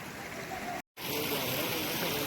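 Clear river water rushes in a forest stream where people are bathing, a steady, fairly close broadband wash broken by a brief moment of silence.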